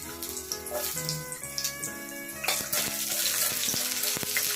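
Tomatoes tipped into onions browning in hot oil, a bright frying sizzle with tonal clinks and clattering utensil hits, rising louder partway through and continuing close up without voices.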